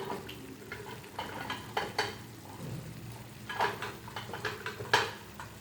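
A utensil clinks and scrapes against a pan while mixing boiled wheat dough dumplings, with irregular taps and light stirring noises over a faint background hiss.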